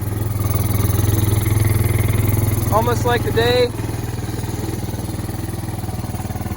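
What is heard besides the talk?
Kawasaki Bayou ATV engine idling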